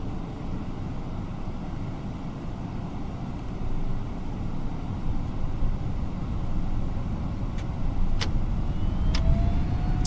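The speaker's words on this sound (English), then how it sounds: "Throttle's going up." Jet engines on an FSLabs A321neo airliner in the MSFS 2020 flight simulator spool up as the throttle rises, a steady broad roar that builds gradually with a few faint clicks and a rising whine near the end.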